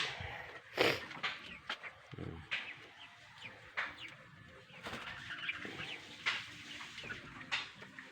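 Chickens about 45 days old in a crowded coop cluck and squawk in scattered bursts at close range, with low rustling and occasional flapping between calls.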